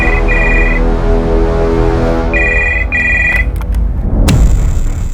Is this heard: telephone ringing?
yes